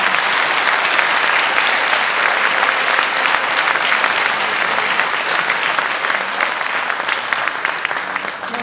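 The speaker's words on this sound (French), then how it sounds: "je pense qu'on peut vous applaudir" Sustained audience applause fills a conference room after a talk on consent, a dense, steady wash of many hands clapping at even loudness that tapers slightly toward the end.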